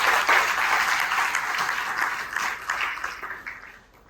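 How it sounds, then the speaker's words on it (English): An audience applauds graduating medical students, with dense clapping that stays steady, then thins and fades toward the end. "A round of applause for all of them."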